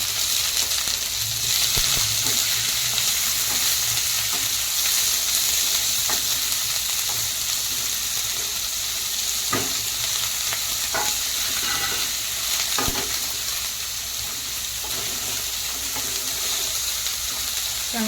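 Chopped onion and green chili fry in a pan for a paneer bhurji, giving a steady, loud sizzle throughout with occasional stirring scrapes and clicks of a spoon against the pan, no voices.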